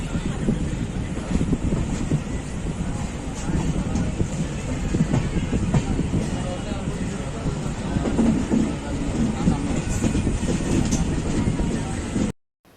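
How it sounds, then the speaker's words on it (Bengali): A train pulls into Barpeta station with a steady, loud rumble of wheels and rolling cars, buffeted by wind noise on the microphone, continuing evenly before cutting off abruptly at the end. "একদম সামনে এসে গেলেন আমাদের ট্রেন।"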